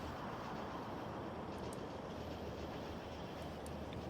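Trains running in the video game Factorio, a continuous dense rumbling rail noise with faint clicking, steady and fairly quiet, with no talking.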